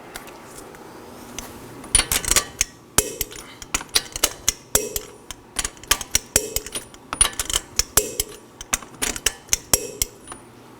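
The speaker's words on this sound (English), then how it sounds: "I'm going to torque the fasteners to 83 foot-pounds in a crisscross pattern." A torque wrench clicks repeatedly as the wheel lug nuts on a 2013-2019 Nissan Sentra are tightened in a crisscross pattern, a series of sharp metallic clicks and ratchet taps at close range.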